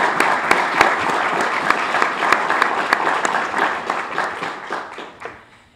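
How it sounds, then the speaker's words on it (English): An audience at a university press conference breaks into a sustained round of applause, dense steady clapping that holds for several seconds and then tapers off quickly at the end. "deserves a great big round of applause"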